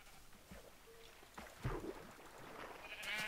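A sheep in the video game Minecraft bleats faintly over a quiet in-game background, with a few soft thuds and rustles around it.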